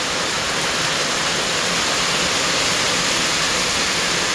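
Heavy, continuous rush of water flowing through a field channel after a downpour, loud and steady with no breaks, a dense broadband roar close by.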